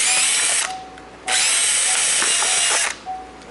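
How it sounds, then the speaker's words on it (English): A power drill bores a small hole in a temporary turbo oil system, two loud close bursts of high whining motor noise separated by a brief pause, then a short final spin. "So I need to drill like a little hole in here"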